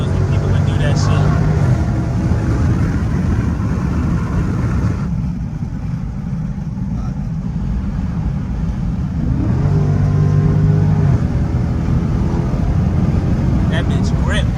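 A Dodge Charger SRT 392 pulls hard with a loud, close engine roar that rises, dips briefly mid-way as it shifts gears, then climbs again; people talk over it inside the car.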